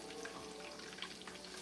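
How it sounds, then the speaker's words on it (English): Chicken frying in a pan, a steady, even sizzle with crackly bubbling throughout, close but soft, with no talk. "While that chicken is frying"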